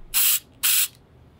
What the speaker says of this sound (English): I'm going to take the CSM3, spray it into a gauze pad